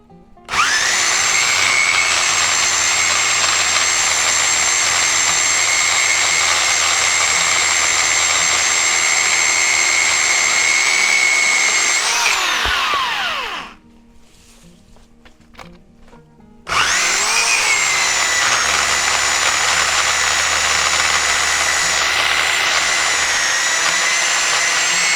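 A DekoPro electric pole chainsaw cuts through live oak wood with a loud, sustained high whine, pausing abruptly for a few seconds midway before revving back up and cutting again.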